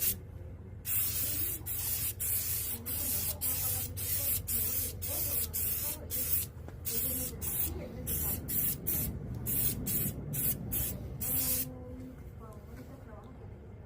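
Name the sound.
spray painting a section of Ford Bronco interior trim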